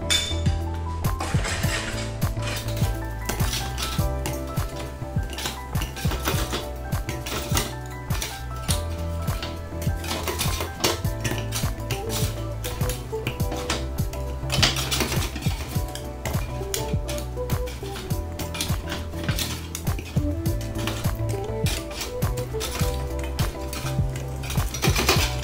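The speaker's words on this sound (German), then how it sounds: "Und das Ganze kommt jetzt in einen Drucktopf rein." Browned chicken goes into a metal pressure cooker for homemade chicken stock, giving scattered clinks and knocks of metal under steady background music.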